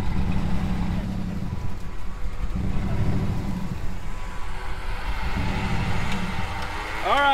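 A stuck wrecker's engine runs steadily while backing up, with wheels spinning in half-foot-deep ruts, a continuous low drone that rises and falls with throttle, ending in a brief higher whine.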